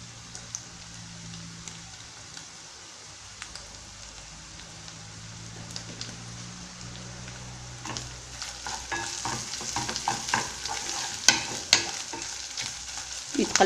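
Tomatoes, onion and parsley fry in a pan with a constant crackling sizzle. It grows louder and busier toward the end as stirring adds sharp spatters and scrapes, with no voices.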